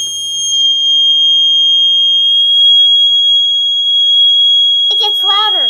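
A Snap Circuits W1 horn blares a loud, steady, high-pitched electronic tone without a break, and a person begins talking over it near the end.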